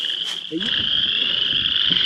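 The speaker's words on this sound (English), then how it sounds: "The frogs are bad today." Frogs croak in a loud, continuous chorus at a beaver trapping site by a tree, a steady high-pitched din with a few deeper croaks close by, no talking.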